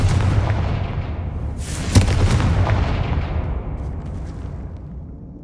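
Bombarda and Confringo spells from the video game Hogwarts Legacy go off as heavy explosions. Deep rumbling blasts peak in one sharp boom, then a long fading roll trails away.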